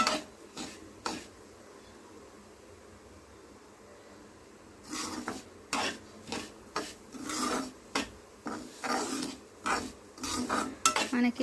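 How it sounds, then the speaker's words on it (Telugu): Semolina frying in ghee for rava kesari is stirred with a ladle, a quiet background sizzle broken by repeated scraping strokes against the pan that come faster and louder toward the end. "పచ్చి స్మెల్ పోయే వరకు గరిటెతో తిప్పుతూ మంచి కలర్ వచ్చే వరకు ఫ్రై చేసుకోవాలి"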